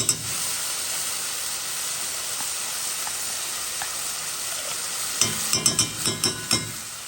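Shrimp and bitter melon hiss and sizzle steadily in a hot pot, a dense frying noise running throughout, with a series of sharp clinks and scrapes near the end.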